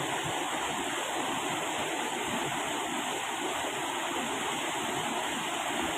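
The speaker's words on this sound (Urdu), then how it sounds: "بڑے بڑے پتھروں کے ساتھ ٹکراتے ہوئے یہ پانی ایک خوبصورت آواز پیدا کرتا ہے۔" Mountain stream water crashes against large stones among the hills, a steady, full rushing roar like small waterfalls that fills the whole stretch, close and unbroken, with no voices.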